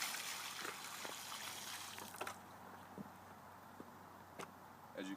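Water from a bucket poured onto porous asphalt pavement outdoors, a steady wash of trickling and splashing with a few sharper drips and knocks, moderately loud and continuous as it drains.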